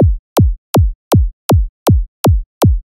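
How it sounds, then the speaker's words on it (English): Eight punchy kick drum samples from an Ableton kick generator rack thump in steady quarter notes, each a loud, close hit with a sharp click and a quick downward pitch sweep, separated by silence. "So the first rack I want to go over is this kick generator rack."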